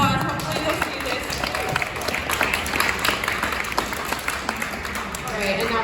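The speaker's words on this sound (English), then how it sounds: "one more round of applause" A rally crowd in a city hall rotunda applauds throughout, a thick wash of clapping with some cheering that echoes in the large indoor space, steady from start to finish.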